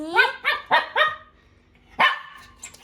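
A small pet dog barks indoors: four quick, sharp barks in a row, a pause, then another bark and some faint yips, fairly close and with no talking.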